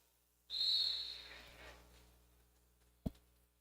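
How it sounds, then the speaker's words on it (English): A referee's whistle starts a roller derby jam: one loud, sustained shrill blast that fades into crowd and arena ambience, followed by a brief sharp knock. "Whistle blows and they go."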